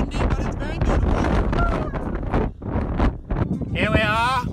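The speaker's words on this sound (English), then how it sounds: "It's a little bit windy" Strong wind in Patagonia buffets the microphone in a steady roar while a person talks close by, with a brief whistling gust near the end.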